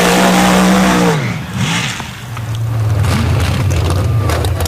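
An orange Chevy drag racing truck's loud engine roars at high revs, then drops away with a rumble as it passes, followed by lingering motor noise and a sharp burst.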